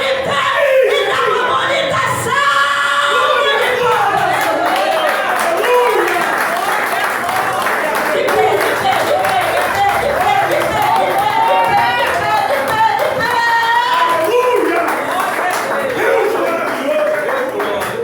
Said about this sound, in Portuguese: Coloca de pé, igreja de pé, e dá uma bonita salva de palmas